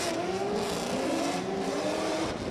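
Drift cars launch together off a green light at an Irish drift championship event, engines roaring loudly and steadily with rising, sustained revving throughout, no talk.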